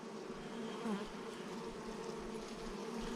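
Honeybees buzz steadily throughout a beehive inspection, a dense, close insect drone that holds even and unbroken with no talking.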